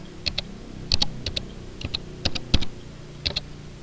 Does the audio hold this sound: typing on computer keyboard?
yes